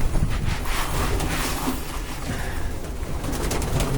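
Soft low cooing of pigeons close by, repeated murmurs over a noisy outdoor background with light rustling and flutter.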